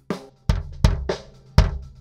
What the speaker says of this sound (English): What you hear now is the unprocessed kick drum as it has been recorded.